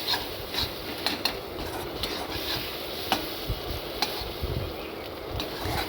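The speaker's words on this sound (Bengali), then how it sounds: "একটা ডিম দিয়ে দেবো আর ডিম দেওয়ার পর বারবার নাড়তে হবে" An egg fries in a pan while a spoon stirs it over and over, a steady sizzle broken by scraping and light metallic taps, close up and with no voices.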